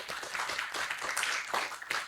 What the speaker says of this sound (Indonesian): Boleh kasih tepuk tangannya?